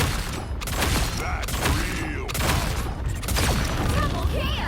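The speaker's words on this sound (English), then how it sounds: "So you get about 6 shots." Rapid gunfire from The Hood's weapon in the video game Marvel Rivals, a dense burst of repeated shots with mechanical clatter, loud and continuous across the clip.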